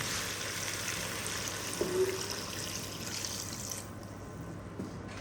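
Water poured into a cooking pot of frying meat, a faint, steady rushing stream with a small splash near the middle, ending abruptly before the clip closes.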